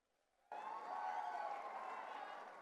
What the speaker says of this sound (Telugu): గట్టిగా మోమాటలు లేకుండా చప్పట్లు కొట్టచ్చు.